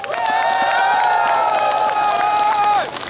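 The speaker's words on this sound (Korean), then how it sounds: "이럴 때 박수 크게 한번 쳐주시고" A large outdoor audience at a street parade celebration concert in Jeongeup cheers and claps loudly and steadily, with sustained crowd voices rising over dense clapping for about three seconds before easing off.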